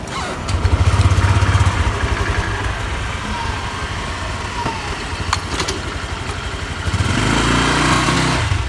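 A Honda Click motor scooter engine idles with a steady putter, revs briefly, then settles into a louder, deeper running rumble close by.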